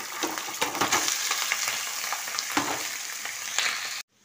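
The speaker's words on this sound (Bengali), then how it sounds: "এবার ভাতটা দিয়ে দিলাম।" Rice tipped into hot oil and ghee with garam masala, dried red chillies and bay leaves, sizzling loudly and steadily with stirring scrapes for about four seconds before cutting off abruptly.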